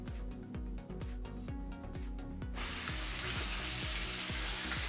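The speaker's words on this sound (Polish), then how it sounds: "Pamiętajcie, żeby smażyć skórą do dołu na początku." Chicken pieces sizzle skin-side down in a hot pan for a mushroom-sauce dish, a steady close crackle that swells into dense, even frying after a few seconds over a low rhythmic thumping.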